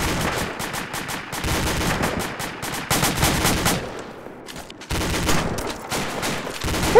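A DShK heavy machine gun fires in a video game firefight, loud sustained bursts of rapid shots with brief pauses between volleys, close and dominant with no talk over it.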